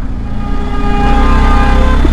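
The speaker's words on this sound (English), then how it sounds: "yeah they're all honking over here" Loud, sustained car horns blaring in neighborhood traffic, several tones overlapping over a low rumble of engines, heard from a BMW R 1250 GSA motorcycle.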